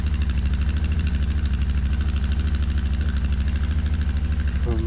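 A Royal Enfield GT650 motorcycle engine idles after a cold start on a foggy morning, a steady, even low throb with rhythmic pulsing that holds close and loud throughout.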